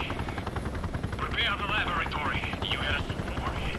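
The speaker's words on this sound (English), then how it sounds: "Helicopter!" A helicopter's rotor drone chops steadily through the Stalcraft video game, a Chernobyl-set horror shooter, with player voices talking over it throughout.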